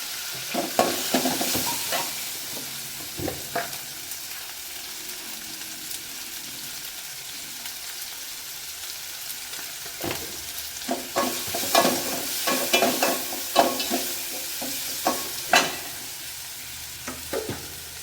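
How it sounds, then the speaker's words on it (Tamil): Onions and tomatoes sizzle in a hot pan, with occasional spoon scrapes and stirring bursts over a steady frying hiss, close up. "சரி நல்லா வதங்கட்டும்"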